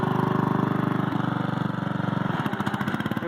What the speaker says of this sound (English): Just a Simplicity 4212. It's got a 12 horse Briggs & Stratton on it.